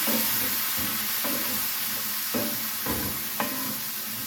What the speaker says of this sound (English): now I've got 2 cups of beef broth that I'm going to slowly add into this, just to keep that flour from clumping up